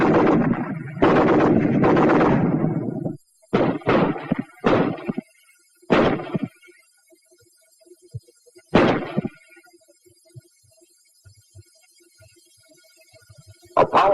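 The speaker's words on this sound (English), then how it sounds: "The BAR, 80 shots a minute." Browning Automatic Rifle (BAR) firing in loud, close bursts: a long sustained burst, then several shorter bursts and single heavy shots with echoing tails, separated by quiet gaps.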